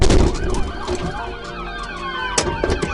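A state trooper's patrol car siren wails loud and close, its rising and falling tones sweeping continuously during a police chase on a roadway.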